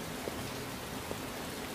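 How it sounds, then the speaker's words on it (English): Steady rain hiss in the video game Detroit: Become Human, a continuous broadband wash of falling drops with a few faint soft taps standing out, no voices over it. "it's raining"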